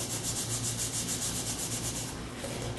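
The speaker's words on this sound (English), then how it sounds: "I just rub on these to make sure that where the glue is," Paper craft pieces for a lion and monkey project rubbed by hand to spread glue underneath, a steady close scratchy rubbing in repeated back-and-forth strokes throughout, with no talking.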